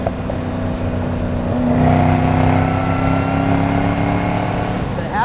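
The engine of a carbon fiber Chevrolet Camaro ZL1 making 580-plus horsepower revs up loud and close, rising into a sustained high roar before settling, with no speech over it.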